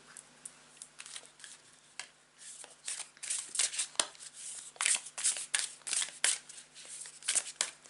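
A tarot card deck is shuffled for a reading, with quiet riffling at first that grows into a steady run of crisp, close card flicks and slaps, with no talking.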